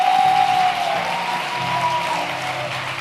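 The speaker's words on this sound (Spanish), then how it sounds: "Yo creo que Dios se merece un aplauso más grande que eso." Sustained congregational applause fills a church, a continuous wash of many hands clapping with a held tone sounding over it early on.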